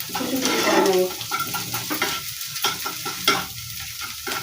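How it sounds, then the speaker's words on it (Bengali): Salted food frying in a pan as it is stirred and broken into small pieces, a steady close sizzle broken by repeated scrapes and spatula knocks against the pan. "এইভাবে ভেজে কুচি কুচি করে নেব।"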